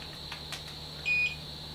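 A battery voltage monitor beeping at low cell cutoff gives one short high electronic beep against a quiet background, close by.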